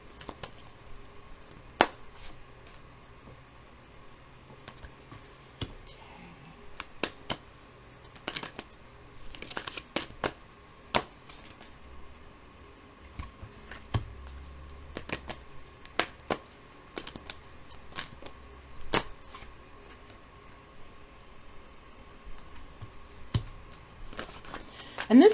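Tarot cards are laid out one by one on a table, giving sparse, crisp little taps and slaps. The soft clicks are scattered irregularly over a quiet room background.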